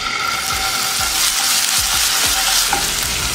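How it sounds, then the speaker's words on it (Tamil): Ginger garlic paste sizzling and crackling loudly in hot oil, with a steady hiss and repeated scraping stirs, close up and without talk. "அதில் இஞ்சி பூண்டு பேஸ்ட்டு சேர்த்துக்கலாம்."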